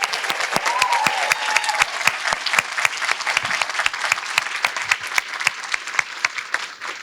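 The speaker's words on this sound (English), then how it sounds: "May we have a round of applause for these wonderful young women." A ballroom crowd at a coronation ball applauds young women being honored, sustained loud clapping with many crisp individual claps throughout and faint voices beneath.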